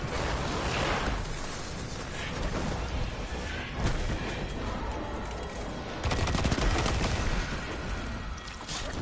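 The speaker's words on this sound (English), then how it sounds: "I think I heard a gunfire." Rapid bursts of gunfire crackle during a Destiny 2 match, dense clattering volleys that keep going with a louder flurry near the end.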